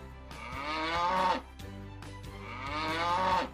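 A cow moos twice, two long, loud, drawn-out lowing calls separated by a short pause, with no voices present.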